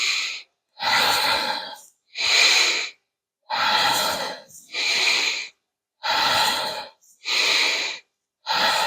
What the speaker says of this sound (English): Now we're going to increase the tempo and we're going to let the breath drive the motion.